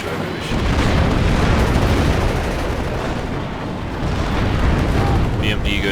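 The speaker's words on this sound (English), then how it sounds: "Laser guided bomb destroys that building." A laser-guided bomb blows apart a building in the video game WARNO, giving a loud, sustained roaring blast with heavy low rumble and crackling debris that fills the whole stretch.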